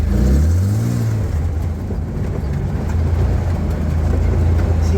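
A Willys Jeep engine revs hard, its pitch sweeping up and dropping back, then settles into a loud, steady rumbling drone as it drives through mud and snow.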